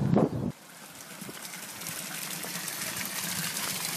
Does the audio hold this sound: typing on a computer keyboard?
no